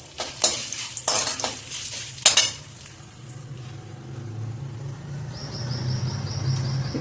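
Dried red chillies frying in hot oil for aval pidi kozhukattai, a few sharp clatters of a spoon against the pan up front, then a steady low sizzle that settles in and carries on.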